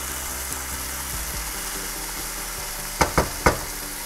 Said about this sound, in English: So my onions have softened up and I'm going to start by adding my potatoes. This is going to saute for a couple of minutes